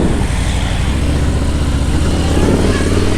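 Harley-Davidson Road King touring motorcycle running with a loud, steady low engine rumble close by, no clear start or gear clunk standing out, the throb holding even across the whole stretch.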